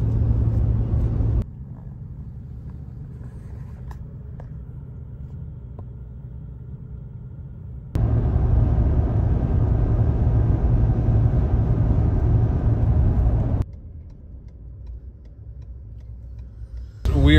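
A manual Jeep YJ crawls along an off-road trail, its engine a low, steady rumble from inside the cabin, shifting in level between loud and quieter stretches with abrupt changes in tone.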